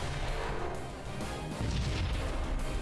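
Weapons fire at enemy bombers in the space strategy game SunRider, a dense, continuous barrage of booming, crackling blasts that rumbles loudly throughout, with a slight dip midway and no speech.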